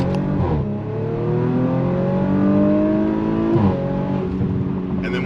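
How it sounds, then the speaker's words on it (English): A 2019 Audi RS5 engine in S mode with its exhaust valve open, revving loud and close in two sustained rising surges with a brief dip between them and no talk. "I'm going to put it in S mode now, which opens up the valve in the back."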